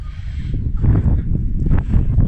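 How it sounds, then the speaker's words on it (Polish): Steady gusting wind roars against the microphone outside a chicken coop, a low rumbling buffet that swells and eases over a couple of seconds. "no i zresztą słyszycie jak wieje"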